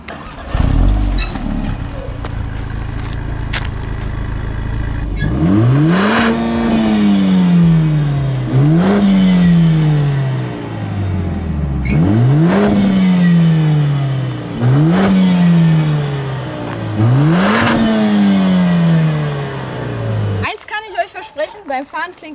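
Mercedes-AMG A45 S with 421 hp starting up and then revved repeatedly while stationary, five sharp rising blips that each fall back to idle, loud and close, with a burst of crackle at the end.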